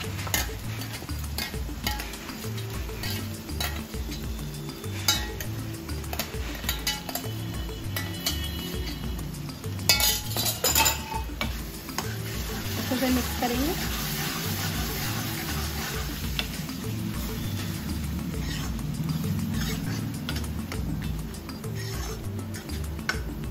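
Ground spinach goes into a pan of sizzling masala and is stirred, with a constant frying hiss and repeated scrape and clink of a spoon against the pan, steady and close, without talk.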